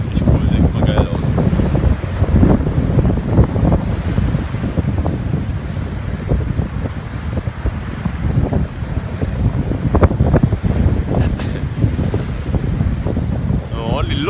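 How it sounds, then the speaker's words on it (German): Strong wind gusting across a beach and sweeping sand along the shore, a loud continuous rushing roar buffeting the microphone throughout. "wenn der Wind den Sand so über den Strand fegt"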